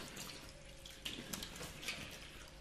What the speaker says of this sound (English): Wash with water